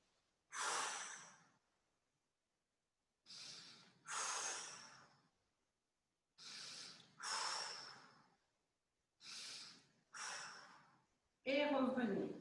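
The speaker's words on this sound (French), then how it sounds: "Inspirez" Deep breaths are drawn in and let out through the nose during a Pilates session, coming in close, clear pairs of rushing inhales and exhales separated by silent pauses, with a coach's voice at the end.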